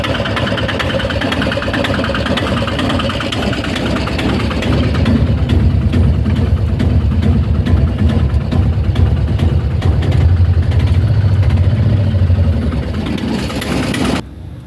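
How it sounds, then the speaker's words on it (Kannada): A Piaggio Ape auto rickshaw engine runs at idle, a loud, steady low chugging with a mechanical vibration that holds for about fourteen seconds before cutting off abruptly at the end. "ಗಾಡಿ ಸ್ಟಾರ್ಟ್ ಮಾಡಿ ತೋರಿಸಿದ್ದೀನಿ ನೋಡಿ. ಒಂದ್ಸಲ ಸೌಂಡ್ ಮಾಡಿ ಗೊತ್ತಾಗುತ್ತೆ."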